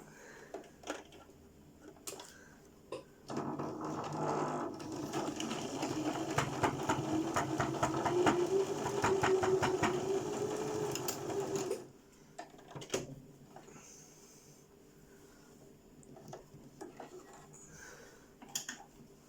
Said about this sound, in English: we're just going to take the sewing machine and sew them down this side